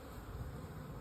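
Honey bees swarm around an open, established hive, making a dense, steady buzzing drone that stays close and even for the whole moment, with no voices.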